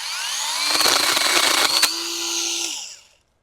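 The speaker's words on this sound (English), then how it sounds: "This definitely makes cutting branches real easy." An EWORK mini cordless chainsaw cutting branches, a close, high-pitched electric motor whine with some rougher cutting noise in the middle, then the motor spins down and stops.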